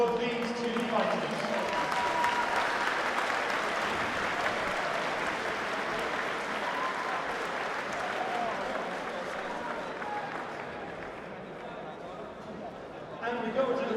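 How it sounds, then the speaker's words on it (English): A boxing event crowd gives a long, steady round of applause for two fighters, broad and even at moderate distance, with a few voices mixed in before it eases off near the end. "A massive round of applause for these two fighters"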